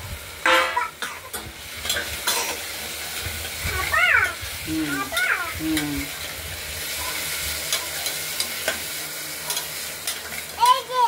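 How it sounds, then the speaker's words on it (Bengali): Moong dal sautéing in oil in a pressure cooker makes a steady background sizzle with occasional stirring scrapes, while a cat meows a few times nearby. "এটা পুরোপুরি সাঁতলে নেওয়া হবে।"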